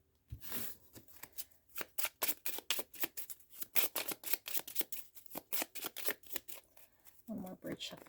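A deck of Lenormand cards is bridge shuffled up close, a rapid flurry of crisp riffling clicks running for several seconds, then a softer settling as the cards are squared.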